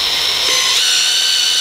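A drill-powered pop riveter runs in forward motion, a steady high whirring motor whine that holds evenly for under two seconds, close and fairly loud with no voices.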